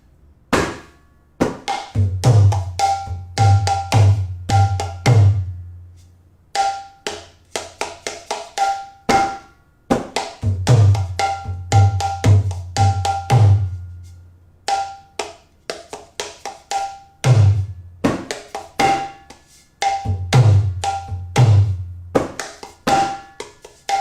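A mridanga hand drum plays a steady, repeating kirtan beat in bursts with short pauses, deep resonant strokes mixed with sharp slaps, close and loud, no voices.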